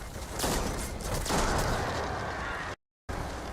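Enemy gunfire in the video game Destiny 2, a dense crackling fusillade of shots that swells in two bursts over steady game noise, cutting to silence briefly near the end.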